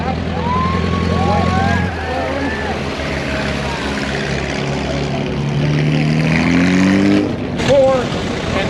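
An Indy race car on the last lap at a concours d'elegance, its engine droning loud and close with rising and falling pitch sweeps as it passes, over continuous talk.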